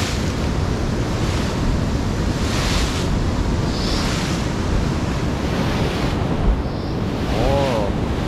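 Water rushing and churning through a narrow rock gap beneath the stone bridge at Chanaen waterfall in Thailand, a loud, steady roar close to the microphone with wind buffeting throughout.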